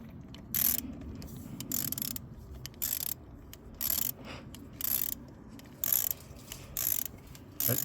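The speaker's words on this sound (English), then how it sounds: "Back here, it's just the ratchet." A socket ratchet clicks in short, evenly spaced bursts while removing spark plugs from a 2020 Hyundai Palisade engine, each run of ticks close and distinct against quiet background.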